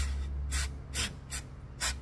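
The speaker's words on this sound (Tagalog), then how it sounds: "Spray mo lang ganyan." Car cleaner is sprayed onto a car sensor in four short, sharp hissing bursts at regular intervals, close and fairly quiet, with a low background hum.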